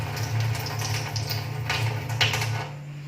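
Water running from a tap during hand sanitation, a steady close splashing hiss that continues without talk and fades slightly toward the end as the faucet is turned off using a disposable tissue.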